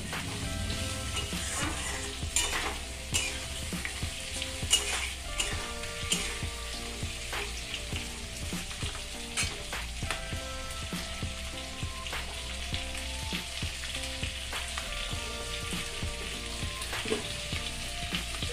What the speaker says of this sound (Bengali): ক্যাপসিকাম আর পেঁয়াজগুলোকে আমি ভালো করে একটু ভেজে নেব